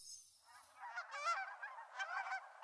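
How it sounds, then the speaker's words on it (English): A flock of Canada geese honks in a steady run of overlapping nasal calls during a winter bird count, with the birds moderately close and no voices. "A new birder on their first Christmas bird count is challenged with a flock of Canada geese."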